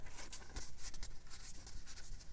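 Paper pages being folded and creased for a handmade junk journal, a close, continuous papery rustle with light scraping strokes, alone without talk.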